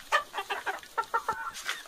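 Chickens cluck in a henhouse: a quick run of repeated, close clucks in a steady, choppy rhythm, with no talk over them.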